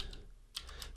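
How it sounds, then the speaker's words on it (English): Quiet keystrokes on a computer keyboard while entering a command in a Windows prompt, a few quick taps with a short pause in between. "we can actually just do a test here and type git space version"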